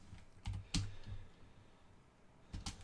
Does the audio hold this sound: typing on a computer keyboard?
yes